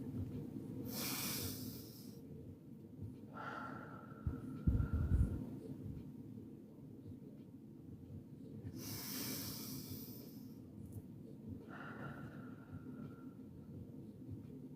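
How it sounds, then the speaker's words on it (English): Slow, deep breaths taken to calm down: two long airy breaths, each followed by a shorter softer one, spaced widely apart over a faint low hum, close and quiet. "Breathe."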